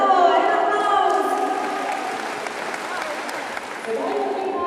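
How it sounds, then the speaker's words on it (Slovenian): A crowd at a live children's stage event applauds with steady, full clapping and some cheering, while a voice speaks over it at the start. "en aplavz"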